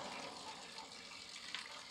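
Natural stream water in Himachal, at a site where kulfi is made, flows in a steady, continuous rush throughout, filling the sound with broad hissing noise and no speech.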